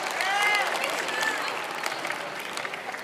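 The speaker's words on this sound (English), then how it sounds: "Can we give them a round of applause again while I tie my shoe?" Audience applause at a talk, steady broadband clapping from a crowd that holds at an even level for the full stretch, with a few whoops or whistles rising above it early on.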